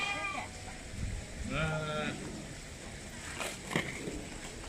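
Sheep bleating at a farm with sheep and star deer, a couple of clear wavering bleats close by amid people talking and general crowd noise.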